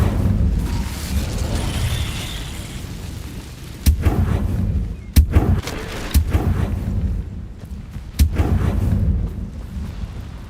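Fiery Incendio spell bursts cast repeatedly in the video game Hogwarts Legacy, four sharp loud blasts spaced a second or two apart over a dense rumbling game soundscape.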